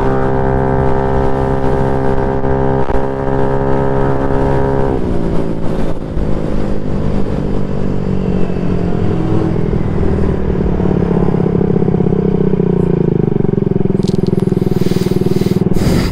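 A Honda Ruckus scooter with a dirty carburetor running while being ridden, its engine a loud, steady drone that drops in pitch partway through then climbs again as it accelerates, with some wind rush at the end.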